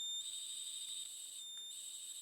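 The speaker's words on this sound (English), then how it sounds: "the buzzer is ringing and the transmitter is transmitting a signal" A manhole accident preventer circuit's buzzer rings with a steady high-pitched electronic tone, sounding continuously with a short gap partway through, faint and alone.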